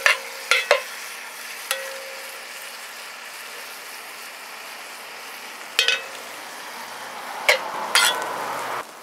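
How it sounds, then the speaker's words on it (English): Cubed meat sizzles in a pot on a Weber kettle grill under a steady, soft fry, broken by several sharp scrapes and stirring knocks of a utensil against the pot. "we got our meat browning up here"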